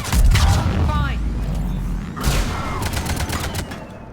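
In Mass Effect 3, heavy booming blasts and cannon-like fire with layered explosions, loud and continuous, with a second burst of impacts after a brief lull.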